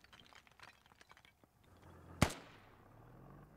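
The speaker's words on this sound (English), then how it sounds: "Those mortars going out." A single sharp, loud mortar launch bursts out in the game Squad amid faint background clatter, followed by a low fading rumble.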